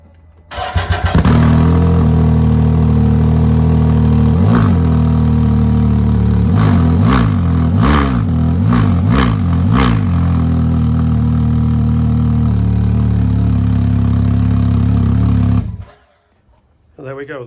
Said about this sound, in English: that's the Asbo Attitude 2 Can-Am Ryker exhaust system